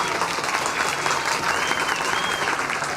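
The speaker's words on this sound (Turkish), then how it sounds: "Alkışlıyoruz." Wedding guests applaud at a civil marriage ceremony, a steady, dense wash of clapping from a crowd that holds evenly loud from start to finish with no pauses.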